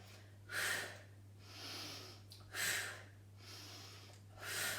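A person breathes hard during a barre workout, making three strong, airy exhales at regular intervals over a soft background hum, each followed by a quieter inhale.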